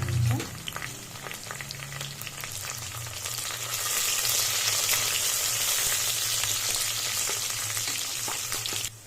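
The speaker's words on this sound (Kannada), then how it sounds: "ಕರಿಬೇವಿನ ಸೊಪ್ಪು ಹಾಕ್ತಾ ಇದ್ದೀನಿ ಹಾಕೊಂಡು ಫ್ರೈ ಮಾಡ್ತೀನಿ" Green chillies and curry leaves fry in hot oil, a dense crackling sizzle that swells louder midway and stays loud under a low steady hum.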